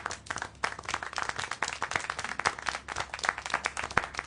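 Dense, continuous applause from an audience, many hands clapping together at an even level for about four seconds.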